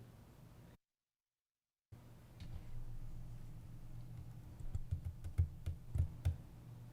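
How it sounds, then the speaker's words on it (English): Quiet keyboard typing, sparse at first then a quicker burst of clicks, close by in a hushed room after a brief dropout. "So I think Nella's typing."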